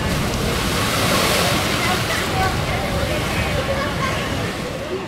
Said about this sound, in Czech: do té zdi, když narazí oceánské vlny, tak to dělá velkou parádu